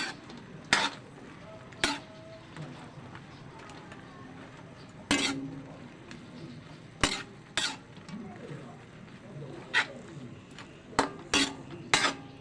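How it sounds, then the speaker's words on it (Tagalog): Tofu is stirred in a pan with cooked kangkong, a utensil scraping and clanking sharply against the metal at irregular intervals over a faint background sizzle. "Ilagay na natin ang ating tokwa. Haluin lang."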